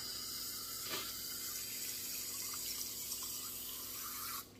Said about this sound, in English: We'll fill the water level to just below